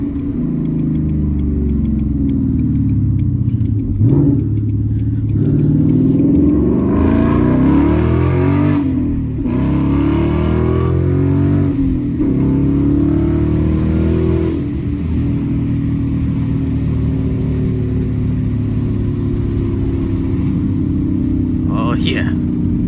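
Ford Mustang GT V8 with manual transmission revs hard under acceleration, a loud, sustained engine roar climbing through gears with brief shift breaks, heard from inside the cabin while people talk over it.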